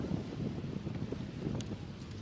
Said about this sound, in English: It's just plenty of wind, these gusts of wind coming around.